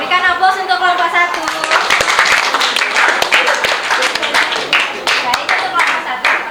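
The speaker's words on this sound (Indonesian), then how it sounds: "berikan aplaus untuk kelompok 1" A class of children applauds for group one in a school classroom, with a burst of dense, steady clapping that follows a brief spoken line and carries on to the end.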